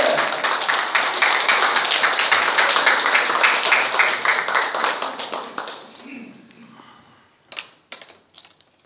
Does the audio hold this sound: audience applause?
yes